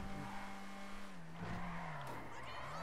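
A video game car drives along steadily with a humming engine tone that dips slightly in pitch, moderately loud and close, with a faint tire squeal layered in partway through.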